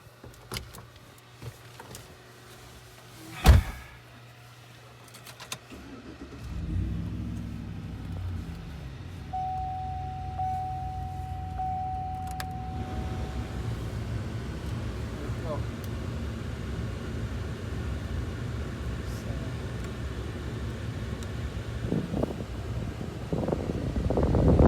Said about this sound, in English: let's try the motor out before we get the cover on